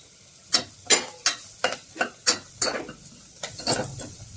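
Red chili powder and turmeric tipped into a pan of fried fenugreek leaves: a series of about ten sharp, close scraping and sizzling bursts at an uneven rhythm, each fading quickly over a quiet background.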